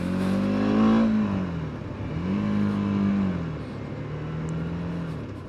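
A TVS Apache RTX 300 motorcycle is ridden with gear shifts, its engine rising in pitch through three steady pulls, each dropping as the next gear engages, heard close and loud with no talking.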